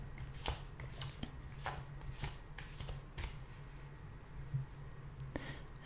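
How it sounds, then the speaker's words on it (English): Tarot cards being shuffled by hand at close range, a steady run of soft papery riffles and flicks with a few sharper taps, quiet and intimate with no talking. "I'm going to give the cards a good shuffle"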